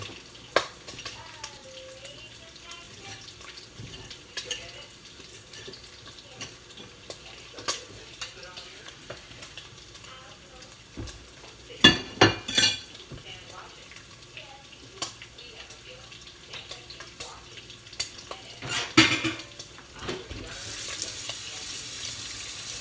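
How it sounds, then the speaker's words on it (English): Bacon frying over high heat in a pot for Zuppa Toscana, with steady sizzling broken by scraping stirs and a few louder clanks near the middle and end, close by with no talk. "Since we turned up the fire, the bacon is cooking pretty quickly."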